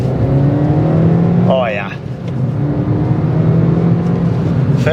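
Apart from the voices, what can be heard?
Suzuki Swift Sport manual car engine while driving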